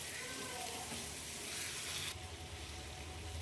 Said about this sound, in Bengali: ভালোভাবে একদম মাংসের সঙ্গে পেঁপেটাকে কষবো।